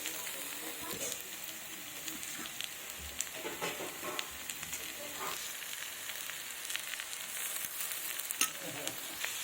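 Boiled potatoes and vegetable stalks sauté with spices in a pan, making a faint continuous sizzle with intermittent stirring scrapes throughout.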